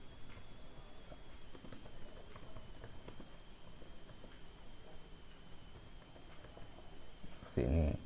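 Computer keyboard keys tapped while entering data into Excel spreadsheet cells, a quiet, steady patter of light clicks with a few sharper strikes and a thump near the end.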